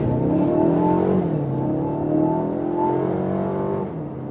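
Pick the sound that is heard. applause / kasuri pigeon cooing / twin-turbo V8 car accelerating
twin-turbo V8 car accelerating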